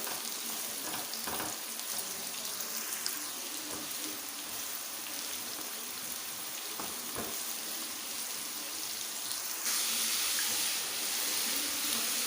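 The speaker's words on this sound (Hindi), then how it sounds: "प्याज को हम लाइट ब्राउन कर लेते हैं।" Onions fry until light brown for Kabuli pulao. A faint, steady, rain-like sizzle continues throughout, with occasional stirring clicks and a slightly louder hiss near the end.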